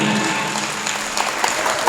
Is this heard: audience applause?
yes